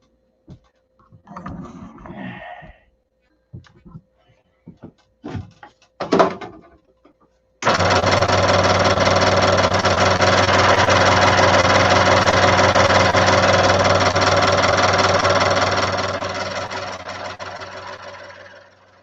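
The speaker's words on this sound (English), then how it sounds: "Then we need to cut this piece out and sand it square. So back over to the saw." A power saw cuts through a piece of wood for a door, starting abruptly after a few scattered knocks and handling sounds, then running loud, steady and close for about eight seconds before winding down.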